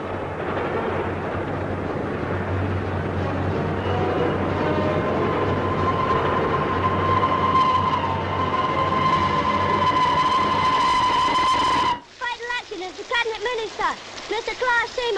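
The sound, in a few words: train running on rails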